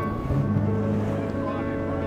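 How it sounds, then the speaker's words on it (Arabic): Big waves around a boat on open water near Migingo Island, heard as a continuous rushing wash with wind noise and a low engine drone, someone talking over it. "امواج هائله ما بعرفش اذا القارب هذا راح يقدر يتحملنا"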